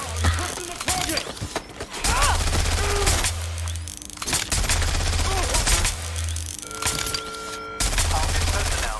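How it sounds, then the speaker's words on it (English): Rapid bursts of automatic gunfire crackle and boom in the video game Watch Dogs: Legion, loud and repeated over a steady low game hum, with a voice calling out briefly in between. "I'm taking fire!"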